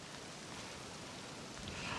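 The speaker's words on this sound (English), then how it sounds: "The rain started again." Rain falls steadily in the Neath Valley, a constant, even hiss of drops on surfaces filling the whole stretch without pause.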